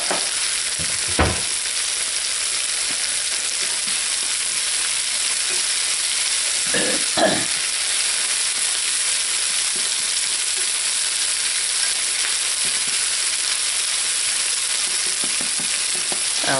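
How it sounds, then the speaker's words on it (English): Sausage fries in a pan of oil for a breakfast casserole with a constant bright sizzle and hiss, broken by a couple of louder clunks of utensils against the pan. "then fry the sausage and stick them all together"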